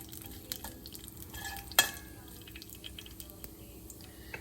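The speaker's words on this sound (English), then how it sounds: "let's have it sizzle for about 10 seconds" Mustard seeds, cinnamon and cloves sizzling in hot oil for spicy khichdi, a soft continuous crackle and fizz with scattered small pops and one sharper pop, close and quiet.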